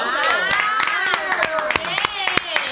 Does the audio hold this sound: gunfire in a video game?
no